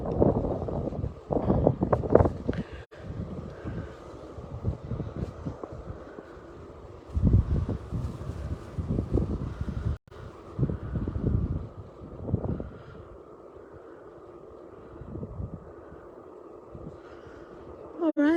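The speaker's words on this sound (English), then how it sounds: "the wind's picking up a little bit" Wind blowing across a sunflower field, heard as steady low rumbling gusts and microphone buffeting that swell and ease throughout, with a person talking at times over it.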